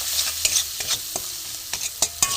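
Spices sizzle in a hot pan with cumin, coriander, green chilies, red chili powder and garam masala, close and steady, broken by repeated scraping and stirring strokes of a spatula.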